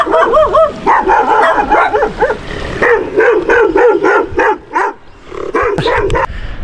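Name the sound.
dogs barking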